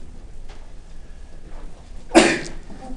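A single loud, abrupt sneeze erupts after a quiet stretch with faint background noise, close and sudden.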